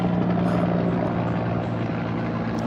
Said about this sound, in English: This is a real helicopter that passed by.